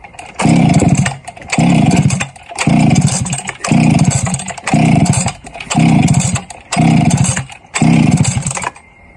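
A Stihl 031AV chainsaw engine, run after choking, roars close and loud in eight even rhythmic revving bursts with short dips between them.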